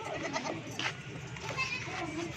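A Rajanpuri ablak goat offered for sale bleats amid a busy, noisy setting, with children playing and voices talking continuously around it.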